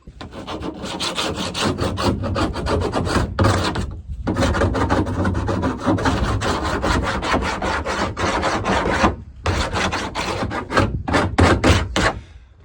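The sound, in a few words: filing the burr off a cut edge of an IBC tote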